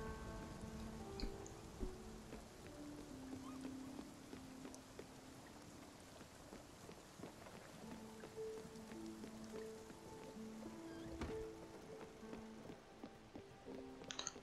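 Storm rain falls in Spiritfarer as a soft, continuous patter of raindrops behind gentle game music tones, staying quiet and even throughout.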